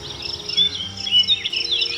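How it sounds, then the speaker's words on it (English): A robin sings a continuous run of high, warbling chirps and trills, fairly close and steady for two seconds, with no voices present. "Robin."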